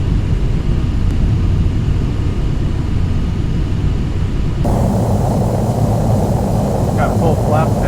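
Boeing 737 airliner on landing approach in MS Flight Simulator, with full flaps and gear down: a steady loud engine and air roar throughout, shifting in tone partway, with talk over it.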